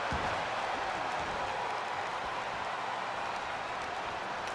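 Arena crowd noise from a WWE 2K23 wrestling match, a steady broad roar of cheering and applause that holds evenly throughout at moderate level with no talk over it.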